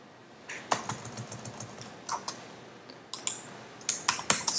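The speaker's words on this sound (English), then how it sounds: "So what I will do is I'll type in Homo" Keys on a computer keyboard are typed in short, irregular bursts of close, crisp clicks with brief pauses between them, in a quiet indoor setting.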